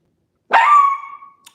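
A single dog bark, sharp and loud and close, trailing off into a brief whine, with a faint tick just after it and no talking.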